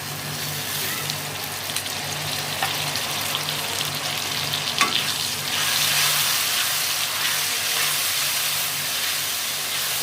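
Chili paste and spices frying in a pan while being stirred, a steady close sizzle running throughout with occasional scrapes, for pudina green chicken.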